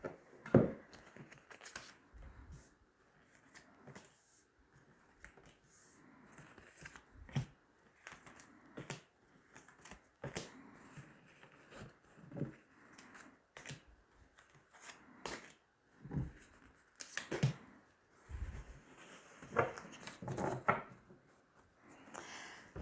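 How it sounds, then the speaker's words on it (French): Tarot cards shuffled and drawn from a deck, a long run of soft, irregular papery riffles, slides and sharp flicks, fairly close, with no talking. "on va tirer 9 cartes"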